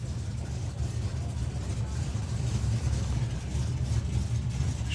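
A Nostalgia Superstock drag racing car at a drag strip holds a steady, loud low engine rumble throughout, with a commentator's voice faintly beneath the noise.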